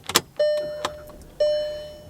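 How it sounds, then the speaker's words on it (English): A car's ignition switched on, giving a quick click followed by two separate electronic chime tones about a second apart, close and clear with nothing else around. "turn the ignition on"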